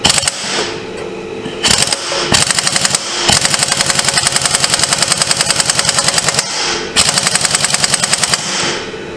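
A large impact wrench hammers at the starter clutch of a 2009-2014 Can-Am Spyder RS in loud, rapid rattling bursts, several long runs separated by short pauses, close and harsh.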